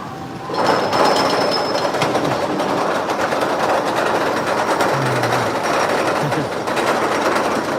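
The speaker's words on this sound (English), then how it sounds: "We could watch the train launch." A roller coaster train launches at an amusement park with a loud, continuous mechanical clatter and rumble that starts abruptly and holds steady, close by and without talk.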